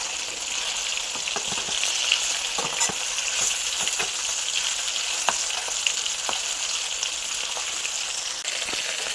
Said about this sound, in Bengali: হালকাভাবে আমি ভেজে নিয়ে নিব মাছটা